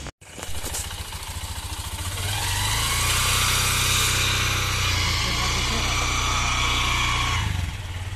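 Motorcycle starting off and riding on the way to a market, its engine droning steadily and building in level after the first couple of seconds, close and continuous before easing off near the end.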